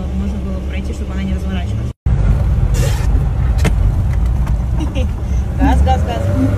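Car engine revving and straining while drifting on a slippery surface, a loud close roar with rising and falling pitch and a brief cut near the start, with a person talking over it.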